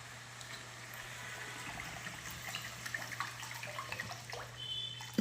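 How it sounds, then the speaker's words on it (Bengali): Water poured into a pan of fish curry masala that has been cooked down until the oil separates, a steady close splashing pour with a faint background hum. "আর একটু জল দিয়ে দেবো।"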